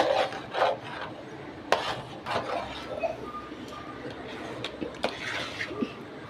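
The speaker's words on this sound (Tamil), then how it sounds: "நல்லா சுருள சுருள கிண்டணும்" Thick maida halwa being stirred and scraped in a pan, with intermittent rubbing and scraping strokes at an irregular rhythm, fairly close and moderately quiet, with faint voice nearby.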